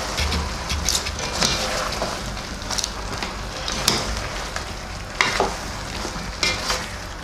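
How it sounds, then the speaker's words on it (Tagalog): Chop suey vegetables with snow peas are stirred in a frying pan, a steady sizzle broken by repeated scraping and clacking strokes of the utensil throughout. "Halo lang ulit natin."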